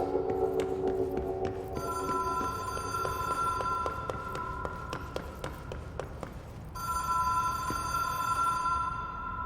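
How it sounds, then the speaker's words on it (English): A landline telephone rings inside the video game Control, with repeated bright electronic bell tones sounding in bursts over a low ambient hum. A short pause breaks the ringing midway before it resumes. "Already can hear the phone ring."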